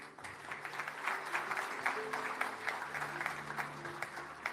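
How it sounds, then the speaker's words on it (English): Audience applause at a community ceremony in Mauritius, a steady patter of many hands clapping at moderate distance, with faint tonal background sound running underneath. "definitely deserves a second round of applause"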